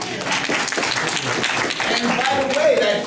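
An audience at a magic lecture claps after a torn-bill trick, a steady wash of many hands close and loud, with a voice talking over the applause throughout.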